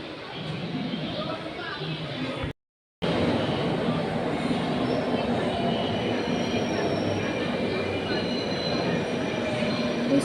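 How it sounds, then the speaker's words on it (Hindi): A metro train pulls into a crowded underground station platform with a loud, steady rumble and a high wheel squeal. The sound cuts out briefly, and voices murmur beneath the noise. "इस साइड वाली मेट्रो आ गई है"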